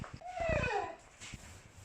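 A pet dog named Rambo whimpers and whines in a garage where a Yamaha R1 5JJ is being restored and resprayed, a few short rising and falling yelps close by, with faint background noises.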